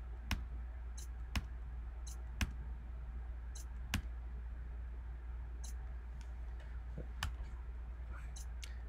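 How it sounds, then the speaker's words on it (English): Left arrow key on a computer keyboard pressed repeatedly, giving sharp, close clicks at irregular intervals roughly once a second over a steady low electrical hum. "I'm using the cursor, left cursor button here on the the left arrow key on the keyboard"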